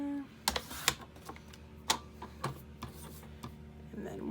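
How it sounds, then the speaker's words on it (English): Scissors snip through paper pieces for a handmade gift card holder, a few sharp separate cuts spaced over several seconds, close and fairly quiet. "I'm gonna go ahead and just cut these quick where I had them marked."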